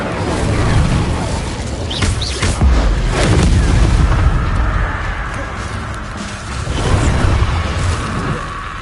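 Incendio fire spells are cast in a Hogwarts Legacy battle, loud whooshing bursts and booming impacts amid chaotic combat noise.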